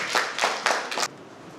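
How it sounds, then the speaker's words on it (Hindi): A short burst of hand clapping from a few people, several quick claps over about a second, then it stops. "बहुत बढ़िया जी ताली बजाइए।"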